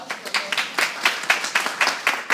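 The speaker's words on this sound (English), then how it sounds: "So please give her a round of applause for" An audience at a school reading night applauds speaker Laura Morales. The clapping is brisk and rhythmic, with a steady patter of individual claps from a modest, nearby crowd and no talking over it.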